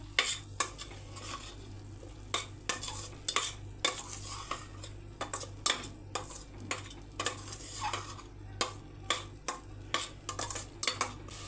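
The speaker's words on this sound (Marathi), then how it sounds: "गरम मसाला पावडर हळद हे सगळे मी आता टाकून घेते आता हे छान परतून घेऊया" Garam masala and turmeric being stirred and sautéed in a pan for rajma masala, with a steady sizzle under repeated sharp scrapes and clinks of a spoon against the metal, close and continuous.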